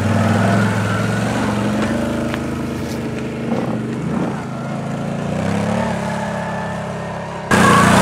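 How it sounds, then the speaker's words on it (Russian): A quad bike engine drones and revs at moderate distance, heading down a slope into a quarry during a muddy off-road race. The engine tone rises and falls, with a louder burst near the end. "Квадр едет, ну тут где у него спуск,"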